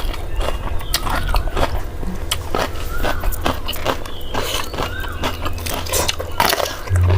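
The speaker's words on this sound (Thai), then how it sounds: "ครับนี่ครับปลาหมึกตัวกำลังกินเลยครับ" Biting and chewing spicy squid salad, a Thai papaya-style tam with pickled mustard greens, heard as close crunchy munching and smacking in an irregular rhythm, fairly loud, with no talk.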